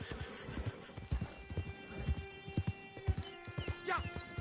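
A horse in the western video game Red Dead Online comes trotting up when called, hooves clip-clopping in an uneven rhythm at close range, ending with a neigh; a faint voice can be heard in the background.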